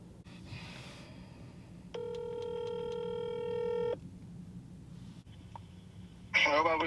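A telephone rings in one clear electronic burst of about two seconds, set among other short beeps and tones, with faint breathing and rustling around it.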